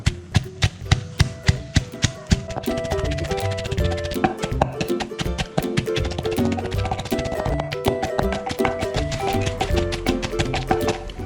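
Chili paste being pounded in a mortar for a northern Thai Tai Lue crab chili dip, a steady run of sharp, close thuds that starts slow and quickens into a fast, continuous rhythm.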